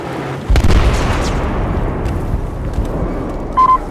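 A C4 explosion in Battlefield 4 erupts as a loud, close boom, then rumbles and rolls on steadily, with a second thump near the end.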